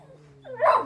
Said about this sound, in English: Maybe a dog across the road.